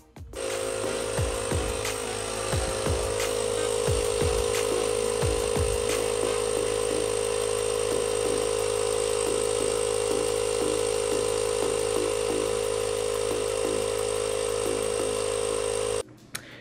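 An electric air pump inflating a tire runs with a steady, loud mechanical buzz and hum that holds for about sixteen seconds before cutting off, with a few low thumps near the start.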